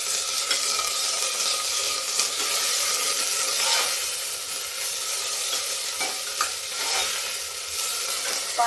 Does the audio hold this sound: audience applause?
no